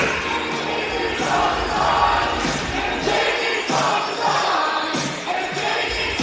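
A raucous crowd at a college volleyball match between Dawson Community College and Dakota College at Bottineau in the Tefke Center, basketball teams leading the cheers, rising in rhythmic waves of shouting and chanting throughout.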